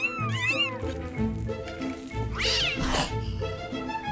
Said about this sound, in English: Her sanctuary houses around 800 cats and 300 kittens